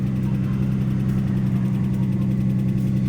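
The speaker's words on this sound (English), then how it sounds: "Don't mind the ticking noise. My engine sucks right now with the car." A Lexus GS300/IS300 car engine idles steadily up close, a low constant rumble with a fast, even ticking from the engine running through it.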